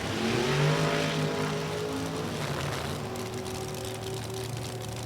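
Top Sportsman drag race cars launch in a handicap elimination round at National Trail Raceway, a loud, sustained engine roar rising as they accelerate away, holding steady and gradually fading with no voices over it.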